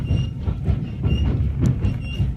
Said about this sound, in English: And into the station comes another train.